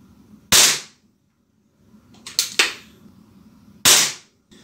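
Air pistol shots from a Weihrauch HW40 or Beeman P17 during target practice: three sharp, loud cracks spaced over a few seconds, with a pair of quicker snaps between them, in an otherwise quiet setting.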